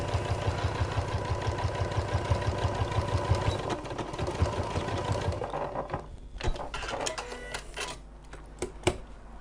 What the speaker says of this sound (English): I'm just reversing my stitches and sewing over that line